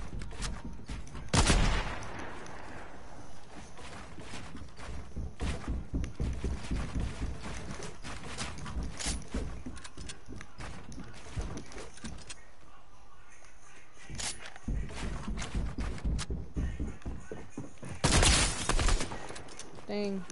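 Gunshots from a sniper shootout in a video game, with sharp loud reports near 1.5 and 18 seconds among a dense, fairly steady stream of smaller gunfire and game noise, and a voice talking over parts of it.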